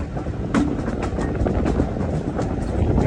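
Heritage train running on the Gwilli Railway beside the River Gwilli at low speed, heard from on board: a loud, continuous rumble with rhythmic clickety-clack of wheels over rail joints, no talk.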